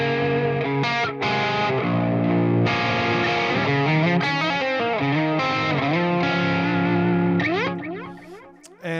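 An electric guitar with effects plays a melodic riff in low tuning, sustained chorused notes and bends ringing out continuously before trailing off near the end.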